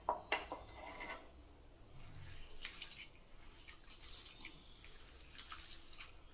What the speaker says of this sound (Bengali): এখন দিচ্ছি জল দিয়ে ভালো করে এটাকে ধুয়ে নিতে হবে।